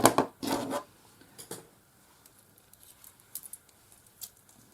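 Scissors snip a bead tassel for a keyring, with a few sharp close cuts near the start, then faint rustling and light handling noises in a quiet room.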